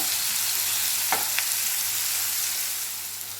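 Bitter gourd slices frying in hot oil in a pan, a continuous bright sizzle with a couple of short clicks as the pieces are turned, no voices.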